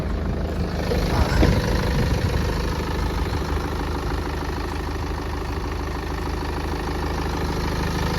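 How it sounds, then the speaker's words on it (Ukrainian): A 2014 BMW 520d xDrive diesel engine idles steadily nearby with the hood open, a low, even rumble and slight clatter, a brief louder knock early on, no speech. "двигун просто муркоче"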